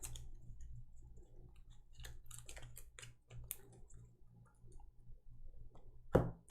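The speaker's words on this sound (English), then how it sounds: "So we need to shuffle their deck again." Cards from a Gloomhaven: Jaws of the Lion board game deck shuffled by hand, a soft run of quick papery riffling clicks with a sharper snap near the end, close and quiet.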